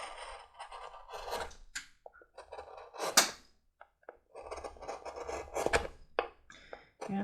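Edges of a large waxed leather bottle being trimmed, giving scattered scraping and rasping strokes close up with short pauses between cuts.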